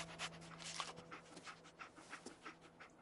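The dog Dogmeat pants in Fallout 4, a quiet, steady run of rapid breaths with a low hum beneath it and no voices.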